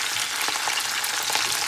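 Chopped leek hitting a hot skillet and sizzling hard, a bright crackling hiss with little pops, loud and close, with no voices.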